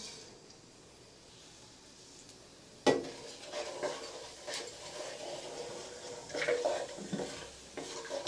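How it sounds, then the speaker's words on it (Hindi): Cumin seeds drop into hot oil for moong dal fry, a quiet hiss that jumps to a sudden crackling sizzle, followed by spoon scrapes and stirring clatter, with no voices. "हमारा तेल गरम हो गया है। अब हम इसमें डालेंगे सफ़ेद जीरा"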